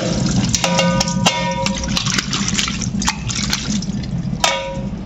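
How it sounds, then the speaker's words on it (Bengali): Duck meat is rinsed and rubbed in water, with splashing and sloshing in a bowl and a few sharp clinks of utensils, close and fairly loud, without talk. "একবার ধুয়েছি কতটা রক্ত পানি বেরিয়েছে, আবার 2 বার ধুচ্ছি"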